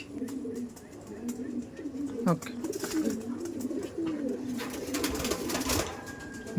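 Black Dom pigeons in a loft coo in repeated low, throaty rolling calls close by, with someone talking over them and brief rustling and clatter in the background.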